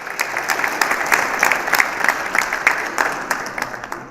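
A crowd applauding the council at a Republic Day mushaira inauguration, with moderately loud, rippling clapping and distinct individual claps popping out throughout.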